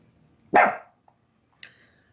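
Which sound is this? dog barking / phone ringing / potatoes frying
dog barking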